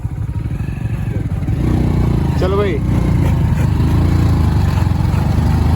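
Motorcycle ridden along with a steady loud engine rumble that builds after a second or so and holds, close up, with a man's brief spoken line over the engine noise.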